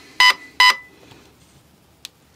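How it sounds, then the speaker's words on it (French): Two short, loud electronic beeps in quick succession, followed by a fainter brief blip after a pause. "Et il y a 2 bips."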